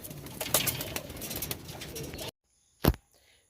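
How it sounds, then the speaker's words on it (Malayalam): Pigeons from a flock of quality birds coo amid a dense, noisy bird background for a couple of seconds, followed by a short, sharp isolated sound and near silence. "ഇത്രയും പ്രാക്കളുണ്ട് എല്ലാം കാര്യമായ പ്രാക്കളാണ്"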